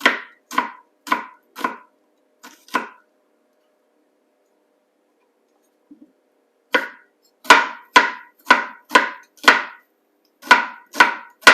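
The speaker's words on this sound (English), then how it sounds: "we are now chopping our onions on the chopping board" A knife chops garden-harvested onions on a chopping board in crisp, evenly spaced strokes: a short burst of about six chops, a quiet pause, then a longer, louder run of rapid chopping, close and with no talking.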